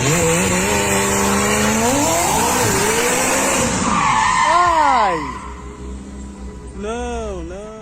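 A rare Aston Martin Vanquish Zagato shooting brake skids with loud, wavering tire squeals and engine revving, then the squeal fades and returns in shorter arcs.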